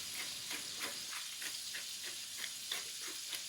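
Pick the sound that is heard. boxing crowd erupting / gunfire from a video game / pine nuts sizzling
pine nuts sizzling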